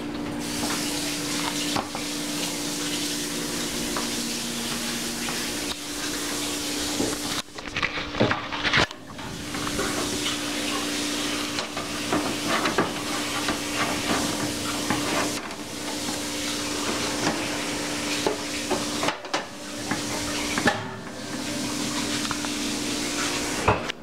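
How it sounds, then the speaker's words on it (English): Tap water runs steadily in a kitchen while hands are washed beneath it, a close, continuous hiss with brief breaks where the flow is interrupted. "now I'm gonna wash my hands"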